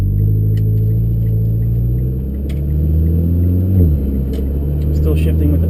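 A Mitsubishi Evo MR with the TC-SST gearbox is driven with paddle shifts, giving a loud, close engine rumble inside the car with rising tones that drop as a gear changes. Someone talks over it.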